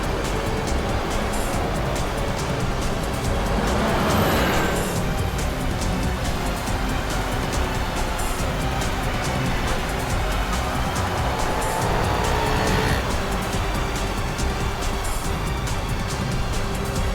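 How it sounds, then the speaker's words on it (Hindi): A car pursuing another car in a CID crime drama episode, a steady loud road roar of moving vehicles with swells of passing rush, continuous throughout with no speech. "ये गाड़ी भी शिल्पा का पीछा कर रही है।"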